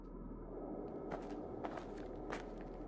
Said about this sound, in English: I did hear like footsteps